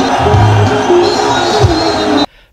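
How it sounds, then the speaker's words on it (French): A large, excited crowd at a political rally roars and cheers continuously for a local-born presidential figure, a dense loud mass of voices that cuts off abruptly. "Le public déchaîné exulte"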